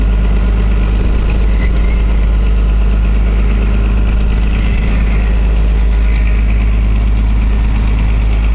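Steady, loud drone of a passenger launch's engine running on a river between Narayanganj and Munshiganj, a constant low rumble with an even throb and no pauses or voices.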